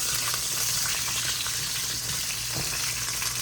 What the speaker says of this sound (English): We're gonna cook these carrots for about 5 or 6 minutes and let them start to get tender